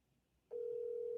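A steady single-tone ringback starts abruptly on an outgoing phone call after a moment of quiet, holding clean and even to the end.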